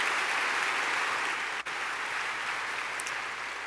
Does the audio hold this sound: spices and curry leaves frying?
no